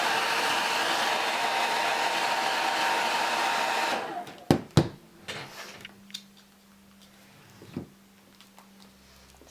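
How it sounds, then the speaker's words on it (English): Hairdryer on high heat blowing hot air onto a vintage 1970s–80s plastic Sindy doll to soften it: a loud, steady roaring blast that cuts off abruptly after about four seconds, followed by a few clicks and handling knocks. "I'm going to use my hairdryer on a high heat, and I'm just going to blast the doll to warm her up"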